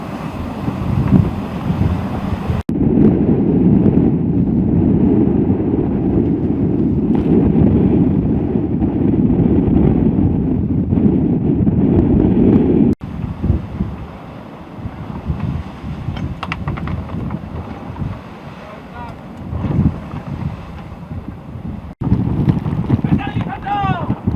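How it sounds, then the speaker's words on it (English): Racing sailboat beating upwind through a lumpy sea in an ocean race, loud rushing wind buffeting the microphone over sloshing water and hull slaps, with a voice talking partway through. "lumpy sea, and just sort of making our way upwind now towards the Philippines"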